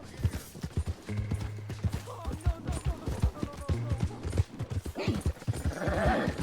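A horse's hooves gallop in steady clip-clop rhythm in Red Dead Redemption 2, close and continuous amid game ambience, with a brief whinny-like tone and some talk over it.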